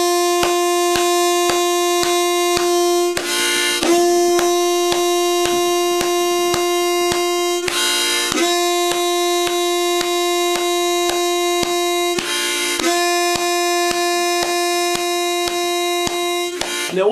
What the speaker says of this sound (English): I want you to play the clearest, loudest two-hole draw that you can.